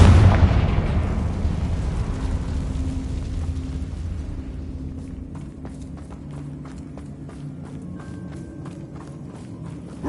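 A Confringo explosive spell in a Harry Potter video game goes off as a loud, booming blast that decays into rumbling, followed by scattered crackles and footsteps.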